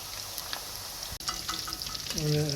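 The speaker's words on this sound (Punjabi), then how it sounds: "ਗੋਭੀ ਬੜੀ ਸੋਹਣੀ ਫਰਾਈ ਹੋਈ ਹੈ ਜੀ" Cauliflower and potato pieces frying in oil in a wok, a steady close crackling sizzle with stirring clatter, ending in a brief, faint tonal scrape.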